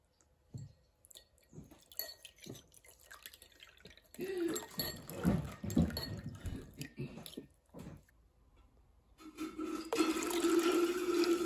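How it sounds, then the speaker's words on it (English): Cool tap water runs while diluting rennet for making Colby cheese: scattered drips and small splashes give way to a steady, close, rushing stream near the end. "Just cool tap water."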